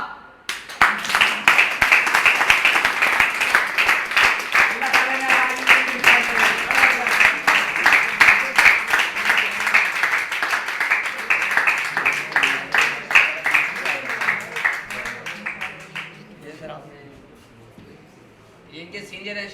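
An audience at a GMI Multan products distribution event applauds in a sustained, dense burst of clapping that lasts most of the stretch before thinning out and fading near the end.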